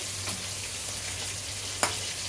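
Coriander spice frying in a pan for a Bengali prawn and greens dish, a steady faint sizzle with a couple of soft stirring clicks and scrapes, no voices.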